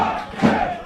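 Preston Lions supporters roar in full voice at a Victorian Premier League football match after an equaliser, a brief, sustained crowd swell that peaks midway.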